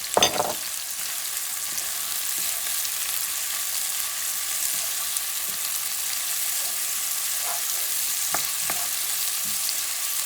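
Chopped ingredients for a rabbit fricassee fry in a pan over high heat, giving a steady, loud sizzle throughout with a few light clinks and stirring touches.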